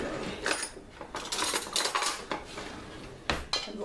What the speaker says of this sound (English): We get a cookie sheet or pan for these.